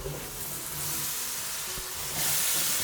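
Vegetables drop into onion masala sizzling in oil for an old-school curry, and a continuous loud hiss of frying swells sharply as they hit the hot pan.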